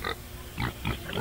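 Pig making noise in a studio: a few short grunting bursts in quick succession, fairly faint and close, with no talk.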